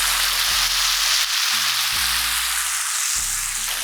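Gnocchi and pumpkin fry in a hot pan with pine nuts, a loud steady close sizzle with occasional low thumps and shifts as the pan is moved or stirred, no talking.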